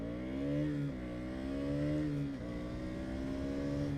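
A 2020 KTM Duke 200 motorcycle engine climbing through the revs in repeated rising pulls, each upshift dropping the pitch before it rises again, loud and close with steady wind noise.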